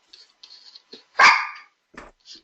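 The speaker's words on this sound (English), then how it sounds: "Let me put my dog out of the room." A dog barks once loudly and close indoors, with a few softer snuffs and small noises around it.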